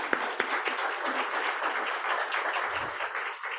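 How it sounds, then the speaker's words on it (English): A meeting audience gives a round of applause for a man who is recovering from an operation and attending over Zoom, with brisk mixed clapping from a small crowd that stays close and fairly steady before it thins out. "let's give him a round of applause"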